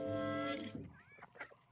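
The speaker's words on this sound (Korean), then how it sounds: "물을 못 찾고 있는 오리와 거위들 어찌할 줄을 모르고 돌아다니고 있어요." Geese and ducks wandering on a frozen farm pond give a loud, nasal honk up close, followed by softer scattered calls and quacks.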